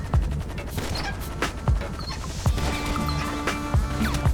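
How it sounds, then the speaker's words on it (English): Gunfire in GTA Online during a solo Podium Robbery heist on PS5: repeated sharp shots and bursts cracking out at irregular intervals over a busy game mix of engine hum and ambient noise, loud and close. "Okay, we're getting shot at now."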